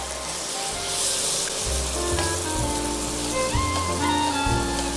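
Foaming butter with rosemary and garlic sizzles steadily over veal in a restaurant kitchen, a close, continuous crackling hiss with faint low rumbles underneath and no talking.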